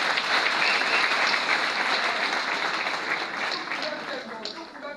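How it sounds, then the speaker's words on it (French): Sustained crowd applause at a UDPS party ceremony in Kinshasa honouring Etienne Tshisekedi as national hero, loud and dense at first, then gradually thinning toward the end, with a voice faintly underneath. "Je vous prie de l'applaudir encore une fois."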